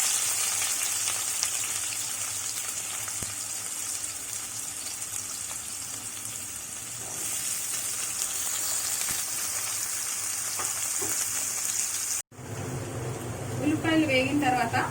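Onions and green chillies hiss and sizzle steadily in hot oil for a simple mixed vegetable curry. The frying is loud and close and continues throughout, and a voice speaks briefly near the end.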